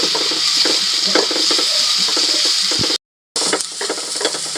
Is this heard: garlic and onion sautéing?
yes